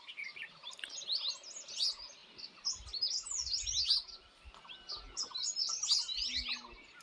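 Many kinds of birds chirp and sing in a valley garden in the UK on a morning, with bright overlapping trills and tweets in repeated bursts, moderately close, and faint low rumbles beneath.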